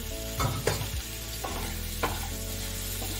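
Boiled potatoes are mixed into spice masala frying in oil, giving a continuous loud sizzle with several heavy scraping and stirring strokes of a spoon against the pan.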